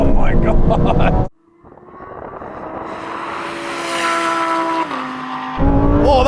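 Supercar drag race from a 30 mph rolling start in second gear among a Ferrari 296, McLaren 750S, Lamborghini Huracan Performante and Porsche 911 Turbo: a loud engine note rises steadily through a long pull, with a brief dip at a gear change, bracketed by voices.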